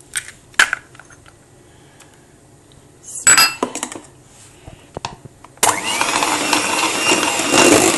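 Eggs being beaten in a bowl while making a minced-meat parmentier soufflé: a few scattered clinks and taps, then a sustained, loud rapid whisking that continues steadily to the end.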